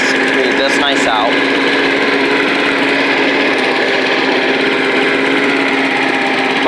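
An old Rover Turbothrust lawn mower engine runs close by with a steady, loud, buzzy drone throughout, and a brief rising whine of revving near the start.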